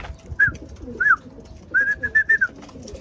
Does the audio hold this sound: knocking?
no